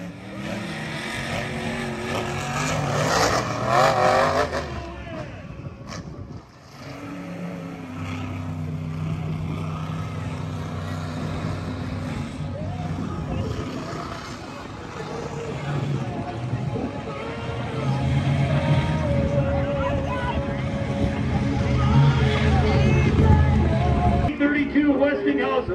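A jet-engine monster truck roars at a speedway show with a continuous loud, rushing engine howl that swells and fades, while an announcer's amplified voice talks over it throughout.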